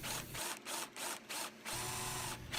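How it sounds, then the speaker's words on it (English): A Forstner bit bores into wood with a handheld drill. The motor whines in bursts and stops between them in a stuttering rhythm, then runs steadily at the close. The sound is faint and close. "I'm drilling this by hand with a Forstner bit"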